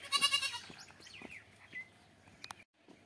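A goat lets out a loud, wavering bleat up close, followed by a few faint bird chirps and rustles.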